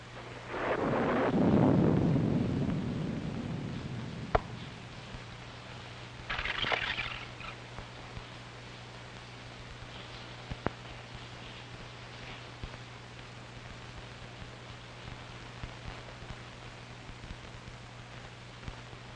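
A low rolling thunderclap swells and fades at the start, followed by a steady hiss of rain on a stormy night with a faint hum beneath and occasional crackles.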